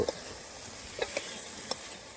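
Chicken being stirred and fried in a pan for bhuna khichuri, a steady soft sizzle with a few light scraping clicks of the spoon.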